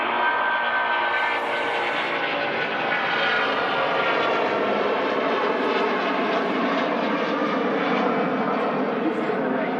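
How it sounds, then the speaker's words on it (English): A Jetsu Airbus A330 jet departs Manchester Airport with a loud, sustained engine roar that holds steady throughout, and a voice talks over it now and then. "An awesome departure there of the Jetsu A330. Great sound as well."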